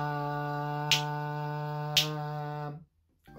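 In a remote music class, two sharp finger snaps land about a second apart to mark the beat, over a steady sustained note that cuts off just after the second snap.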